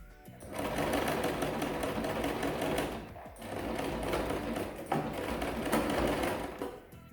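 A sewing machine stitches a swim short in loud, rapid bursts of mechanical whirring, pausing briefly between runs as the needle is set and the fabric turned, with no voices.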